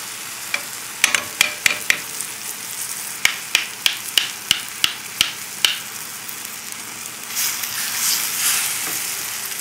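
Onions and mushrooms with Dijon sizzling in a pan, a steady loud hiss punctuated by a rhythmic series of sharp spatula taps against the pan, then a swelling sizzle toward the end.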